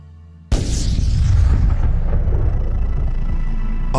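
A supernova explosion sound effect hits with a sudden loud boom, then rolls on as a long, deep, steady rumble.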